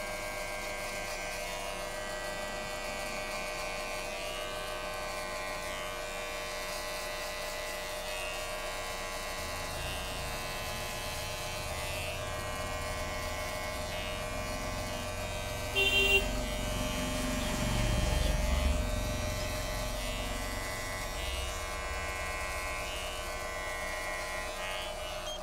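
A large electric hair clipper runs with a steady, close mechanical buzz for the whole stretch, giving a slight lower rumble partway through as it moves against hair during a skin fade haircut.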